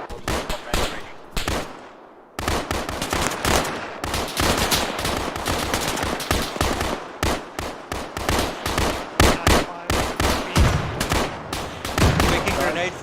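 Dense military video game gunfire, rapid bursts and single shots cracking loudly and close in long uneven volleys, with a brief pause near the start and faint voices mixed in.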